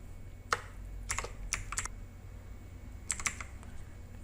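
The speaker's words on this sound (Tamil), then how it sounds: "இதுக்கு மேலே இப்போ நீங்கள் டைப் பண்ணோன்னா அப்படி டைப் பண்ணலாம்" Fingers tap a computer keyboard in short bursts, a few sharp clicks clustered together then a pause before another pair, close and crisp in a quiet room.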